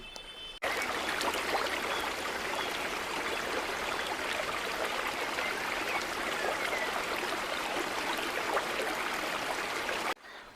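The Cheekudhra waterfalls near Rajavommangi village pour over rocks in a constant, dense rushing roar that starts and stops abruptly and stays steady in between.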